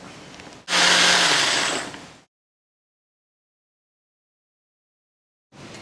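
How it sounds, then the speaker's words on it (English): A loud blender whirs through mango salad dressing ingredients in a short, harsh burst, then stops abruptly, leaving silence before the motor starts up again at the end. "And now we're going to put all the ingredients in the blender and blend it all up."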